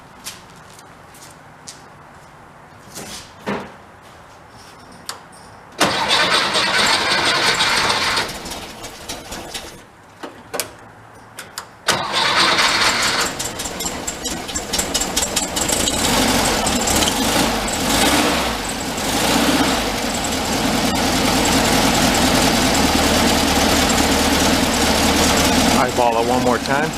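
A VW truck engine fires up, cuts out, then starts again and settles into a loud, continuous idle with throttle blips, while pigeons coo softly in the quieter stretch before it.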